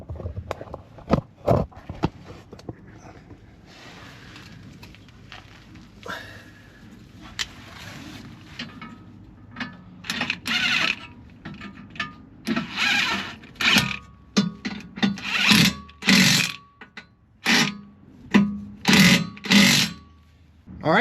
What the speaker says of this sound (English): all that's left is to tighten up the cross member bolts.